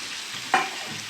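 Chicken being stirred with potatoes and carrots in a frying pan, a single brief scrape and sizzle standing out over a low background of frying, with no talking.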